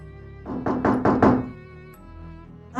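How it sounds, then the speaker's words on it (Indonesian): Four quick hollow knocks land on a bedroom door at night, close and evenly spaced, followed by a quiet pause and a short thud at the end. "aku terkesiap saat pintu kamar diketuk"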